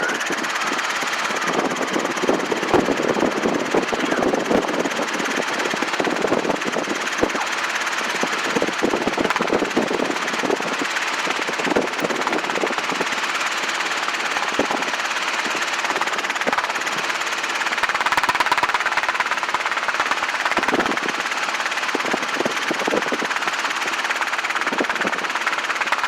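Robinson R22 helicopter engine running steadily during a flight lesson, a continuous loud mechanical drone with rotor throb, close and unbroken for the whole stretch with no talk over it.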